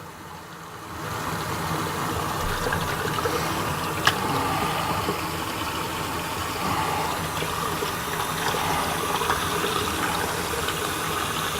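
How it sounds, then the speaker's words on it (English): Water runs steadily from a tap over an RV toilet tablet in a constant rushing stream, starting after a brief quiet moment and continuing unbroken, with one small clink. "you just run water on it until it's totally dissolved"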